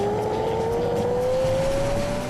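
A V8 Maserati GranSport rally car struggling for traction on a stage of the 2006 Dutton Rally in New South Wales, its engine note climbing steadily in one continuous, loud, close howl as it accelerates.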